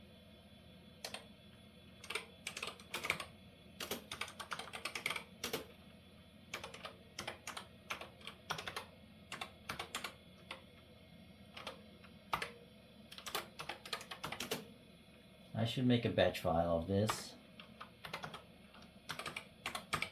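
Computer keyboard typed in bursts while entering commands to configure mTCP networking on a 386 PC, the keys clattering in quick irregular runs with pauses between, then a louder, denser flurry near the end; a brief spoken remark is heard.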